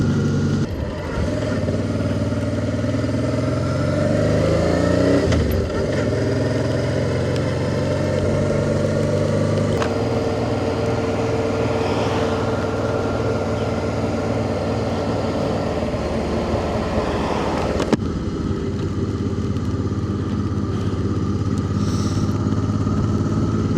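Rider's own motorcycle engine drones loud and steady throughout, with the brief rise of a passing motorcycle faintly buried in the mix.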